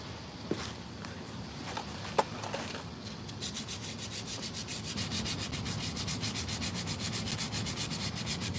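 Hand sanding a part to remove out-of-round wear: a few scattered scrapes, then a steady run of rhythmic back-and-forth rasping strokes, close and fairly loud, with no talking.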